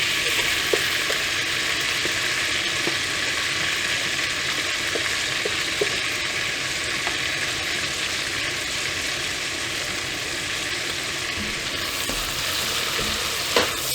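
Finely chopped onions frying in butter for broccoli cheddar soup, a loud steady sizzle that hisses continuously with a few faint ticks of stirring, no speech over it.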